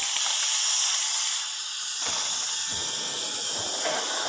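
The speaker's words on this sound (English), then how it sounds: "And then we can test out the blower." A Roedix cordless electric air duster blower runs on its lowest setting, a steady loud high-pitched jet-like whine and hiss that continues throughout with slight swells.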